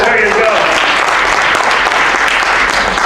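An audience claps loudly and steadily for a magic trick at a late-night kids' magic competition, sustained applause filling about three seconds.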